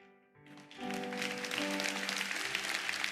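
A church congregation breaks into applause during a worship service, a sustained wash of many clapping hands rising after a brief hum of sustained tones at the start, fairly distant and soft.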